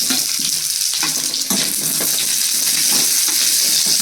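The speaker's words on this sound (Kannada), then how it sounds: "ನಂತರ ಈರುಳ್ಳಿ ಹಾಕೊಂಡು ಫ್ರೈ ಮಾಡ್ಕೊತೀನಿ" Onion frying in oil in a pan, a loud, steady crackling sizzle close by, with some spoon stirring, lasting the whole short stretch without speech.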